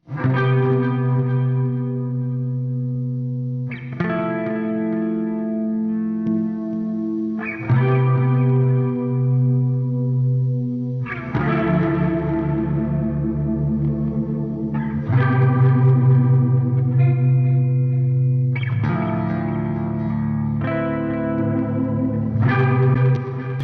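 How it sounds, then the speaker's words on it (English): Electric guitar through a Neural DSP Soldano SLO 100 strums a slow sequence of sustained chords with a shimmering, wavering chorus pedal effect and some reverb, each chord ringing for several seconds. "mess around with the chorus pedal so you guys can hear how different that sounds as well"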